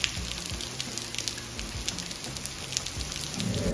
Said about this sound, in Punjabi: ਦੇਖਿਆ ਕਿਹੜੇ ਉੱਤਰ ਦਾ ਮੀਂਹ, ਕਿਹੜੇ ਜਿੱਥੇ ਡਿੱਗਦਾ ਸਰਾਟਾ ਡਿੱਗਦਾ